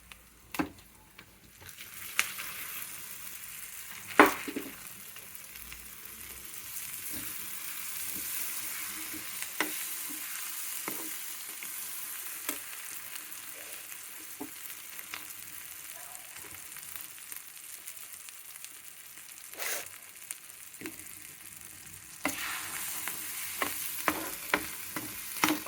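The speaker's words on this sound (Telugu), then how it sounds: "దొండకాయ అయితే వేసేస్తున్నాను చూడండి." Chopped ivy gourd (tindora) fries steadily in a pan: a continuous close crackling sizzle, broken by frequent scraping stirs and clinks of the spatula, with no talking.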